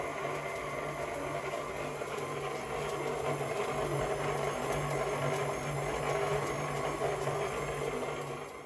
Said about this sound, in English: We use the mixer to mix the pastry. I turn it on to a low setting.